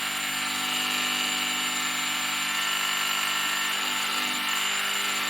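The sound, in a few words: drill making a pilot hole in O gauge model buffers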